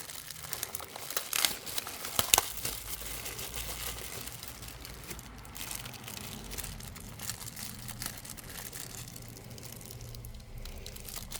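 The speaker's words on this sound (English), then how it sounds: "Oh, these plastic bags are tight." Tight plastic packaging bags being torn and crinkled open on a workbench while unpacking sidecar bushings, with dense continuous crackling and a couple of sharper rips early on, close and steady throughout.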